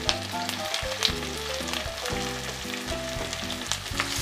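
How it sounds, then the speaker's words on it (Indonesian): Shallots and garlic, finely sliced, sauté in oil in a pan with a steady, close sizzling frying hiss throughout, loud and continuous with some stirring, and no talking. "Saya akan tumis dulu bawang merah dan bawang putih yang sudah dirajang atau diiris tipis."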